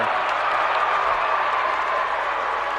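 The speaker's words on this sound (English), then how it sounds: "Applause from WestPoint Beemer" Loud, sustained crowd applause and cheering fills a basketball gym after a jump ball call in a girls' state quarterfinal, a dense continuous roar with no break.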